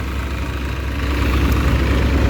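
Massey Ferguson 7250 tractor engine idling nearby, a steady low rumble that holds at an even level for the whole stretch with no revving, and no voices over it.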